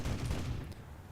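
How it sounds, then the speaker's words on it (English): Heavy, rapid aircraft cannon fire in the video game War Thunder, a continuous booming burst, deep and loud, lasting about a second. "as you can hear the cannon just alone sounds insanely beefy"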